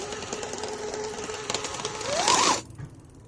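A 400-watt 3D-printed e-bike motor with 150 Nm of torque runs under throttle, giving a buzzing mechanical whir with a chain rattle that climbs in pitch, then cuts off abruptly near the end.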